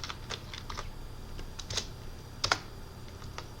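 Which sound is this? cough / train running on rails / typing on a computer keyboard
typing on a computer keyboard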